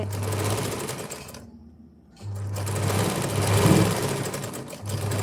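A sewing machine stitches a long frock, running in steady close-up bursts with a brief pause in the middle before the motor picks up again.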